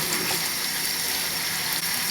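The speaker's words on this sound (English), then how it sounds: "I'm going to rinse them in a little cold water." Cold tap water pours steadily over drained boiled potatoes in a sink, a close, constant splashing gush with no break and no talk.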